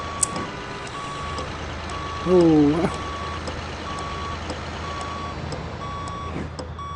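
A truck reverses in Grand Truck Simulator, its steady evenly spaced warning beeps repeating throughout over a low engine drone, with a brief loud honking horn midway and a man's short exclamations.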